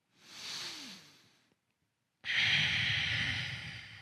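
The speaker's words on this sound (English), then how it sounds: "Continue to breathe in and out of your nose." Breathing through the nose during a yoga pose: one slow, soft airy inhale or exhale, a pause of silence, then a louder sustained nasal breath, close and alone.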